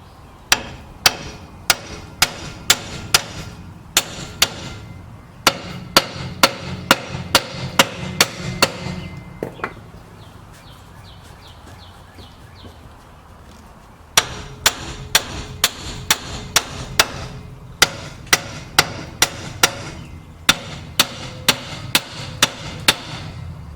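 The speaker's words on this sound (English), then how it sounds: "Try and get this brake drum free." Sharp metallic hammer blows strike a stuck brake drum on a 1972 Mercury Montego MX, loud close clangs in quick rhythmic runs separated by pauses, with a quieter stretch of scraping in the middle.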